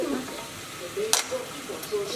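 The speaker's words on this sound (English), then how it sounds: "Then you stir the meat everywhere" Sirloin meat stirred in a frying pan with a wooden utensil, a soft sizzle running under the scraping strokes, with one sharper knock partway through.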